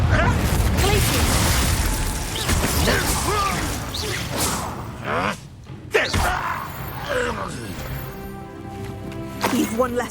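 Glacius freezing spell cast during a battle in Hogwarts Legacy: dense whooshing, cracking and shattering game effects with low rumbles, loud and busy throughout, with a few mechanical groans and a voice underneath.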